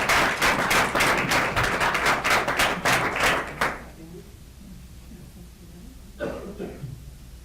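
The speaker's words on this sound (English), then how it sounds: "let's give a big round of applause to all of our girls in the tennis team" A room full of people at a school board meeting claps loudly for several seconds, then the applause stops abruptly, leaving quiet with a brief clatter afterward.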